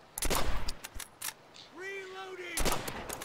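Gunfire bursts from the World War II shooter Call of Duty 5, several sharp shots in quick succession, then a lull with a tonal in-game sound, followed by another burst near the end.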